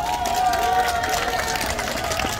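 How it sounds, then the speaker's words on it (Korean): A crowd at a political campaign rally in Cheongju's Yukgeori Market claps in thanks, a dense wash of applause mixed with cheering and a sustained tone, loud and close, with voices mingled in. "다시 한번 감사의 박수 부탁드리겠습니다"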